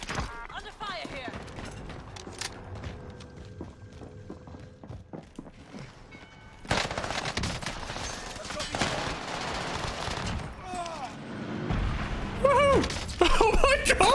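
Video game gunfire on the Caldera map, scattered shots and bursts from a firefight among footsteps and movement, growing louder and denser partway through, with a player's voice talking over it.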